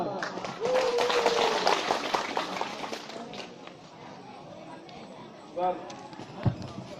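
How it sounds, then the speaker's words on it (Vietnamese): Wedding guests clap scattered applause for the bride and groom at a wedding reception. The clapping is fairly close and runs under an announcer's voice, then fades into a few isolated claps and thumps. "Xin trân trọng mời quý vị cho một tràng pháo tay thật lớn để đón chào cô dâu và chú rể"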